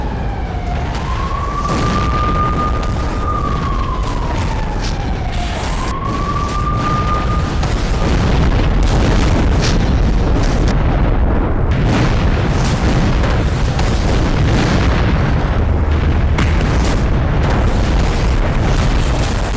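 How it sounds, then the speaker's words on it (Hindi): Explosion at a museum in Bakhmut, Ukraine, heard as a loud, continuous rumbling roar of blast and debris with a rising and falling siren tone early on, no speech. "ये बाखमुत के म्यूजियम में हुए ब्लास्ट की तस्वीरें हैं"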